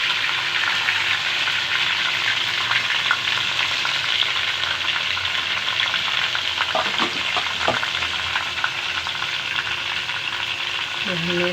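Chicken pieces frying in a hot pan, a loud, steady close-up sizzle that hisses on without a break, with a few faint knocks near the end.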